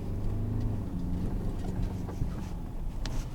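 A Ford Ranger Raptor accelerates hard on a dirt off-road track, its engine giving a dense, steady roar mixed with rumbling tires and gravel, loud and close throughout.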